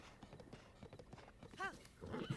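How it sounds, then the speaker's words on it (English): White horse in the Zelda: Breath of the Wild video game, quick rhythmic hoof clip-clops followed by a short rising whinny, fairly quiet, with game sounds underneath. "We got a pony!"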